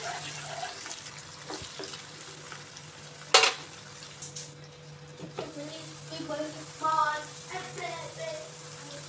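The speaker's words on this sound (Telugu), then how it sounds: "నూనె వేడాక ముందుగాల కట్ చేసి పెట్టుకున్న పచ్చిమిర్చి ఉల్లిపాయలు వేసుకుంటున్నాను" Chopped green chillies and onions sizzle in about four spoons of hot oil in a pan for mutton curry, with a steady low frying hiss, a sharp burst as they hit the oil, and scattered stirring clinks.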